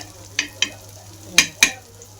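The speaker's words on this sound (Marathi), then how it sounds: "आपण अजून त्याला दोन मिनटं भाजून घेऊ" Onion roasts in a pan while a spoon stirs it, four short, sharp scrapes in two pairs standing out over a faint, quiet sizzle.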